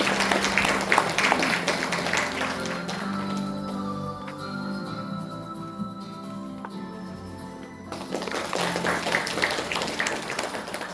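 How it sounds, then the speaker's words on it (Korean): Applause at an academic commemorative event honouring a late sea captain's voyage, a crowd clapping strongly to welcome a speaker, easing into quieter scattered claps with background music, then swelling again. "큰 박수로 맞이해 주시기"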